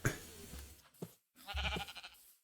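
Sheep bleat in the blocky video game Minecraft, in a plains and hills world, with two or three short nasal calls spread over a couple of seconds, fairly quiet and alone with no talk.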